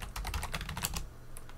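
Rapid keystrokes clatter on a computer keyboard as a command is typed into a Linux Ubuntu terminal, a quick burst of clicks followed by a couple of isolated taps.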